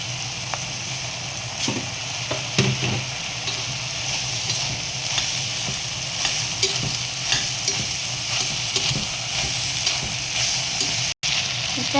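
Potatoes and vegetables for pav bhaji sizzle steadily in a pan while a spoon stirs them, scraping and knocking at irregular intervals, close and continuous with no talk.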